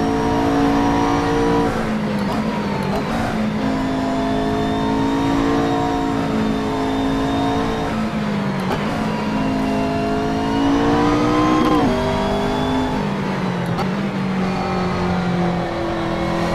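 A McLaren MP4-12C GT3 race car in Assetto Corsa at Circuit St-Jovite (Mont-Tremblant), its engine droning loudly and continuously as revs rise and fall through gear changes, with no talk over it.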